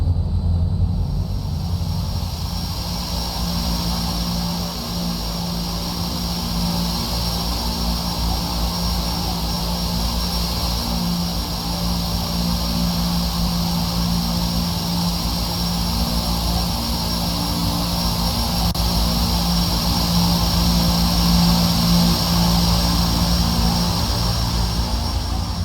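Simulated airliner engines taxiing out toward the runway, a steady, loud jet whine and roar with a constant high tone over a low rumble, holding evenly throughout with no voices.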